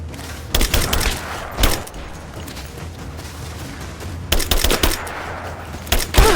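Rapid bursts of automatic gunfire in Rise of the Tomb Raider crack in loud, close clusters, with quieter battle noise between the volleys.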